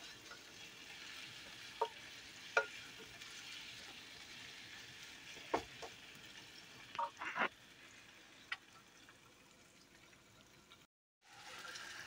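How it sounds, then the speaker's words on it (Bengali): Onions frying in oil in a pan until golden brown for a spicy quail roast, a soft steady sizzle with a few sharp clinks of a spatula scattered throughout, then a brief drop to silence near the end. "লাল লাল করে পেঁয়াজটাকে বেরেস্তার মতো করে ভেজে নিব।"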